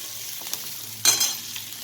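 Mustard seeds spluttering in hot oil in a kadai while cooking a Maharashtrian-style chana gravy, giving a steady close sizzle with a sharp burst of crackling pops around the middle and no voices.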